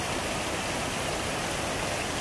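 Waterfall at Laktas Falls, a dense, loud, unbroken roar of falling water heard close up with no other sounds.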